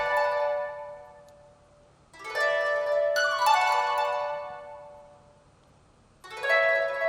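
A sampled grand harp strummed in bright cascading chords, treated with EQ, echo and reverb so each strum rings out and fades into a washed-out tail, with three separate swells and no voices.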